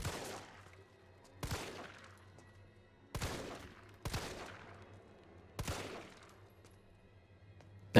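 Gunshots in the Resident Evil 3 Remake demo crack out in four sharp, separate bursts spaced a second or more apart, each decaying into a reverberant tail over a low hum, fairly quiet overall, with no speech.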